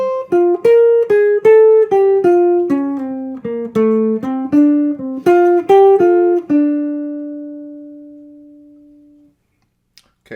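Solo jazz guitar plays a long, clean single-note phrase from a solo, a quick run of plucked notes at a moderate tempo that slows and ends on one sustained note left to ring out and fade.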